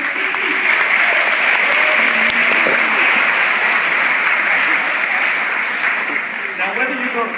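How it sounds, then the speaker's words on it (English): A crowd at a conference closing ceremony gives itself a round of applause, loud, dense and sustained clapping that tapers slightly near the end, with a voice faintly audible under it. "give yourself a round of applause"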